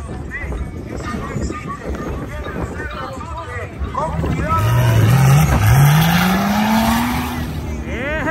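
Drag race cars launching and accelerating down a strip, a loud engine roar rising in pitch from about mid-clip over steady crowd and track noise, with a whine climbing toward the end.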